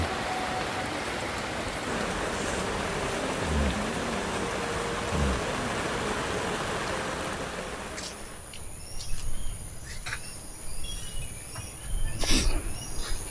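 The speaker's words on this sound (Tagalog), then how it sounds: "Sobrang lakas ng ulan." Heavy rain pours steadily at D'Tree Farm Campsite in Bailen, Cavite, a dense close hiss that eases after several seconds, leaving insects chirping and scattered drips and patters.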